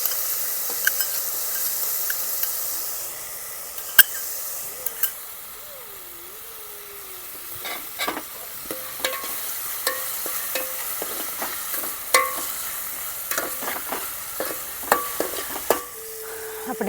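Eggplant curry frying in a pan as tomatoes go in and a spoon stirs, a soft steady sizzle broken by repeated scraping clicks and taps against the pan.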